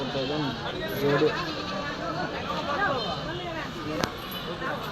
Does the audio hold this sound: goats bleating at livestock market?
yes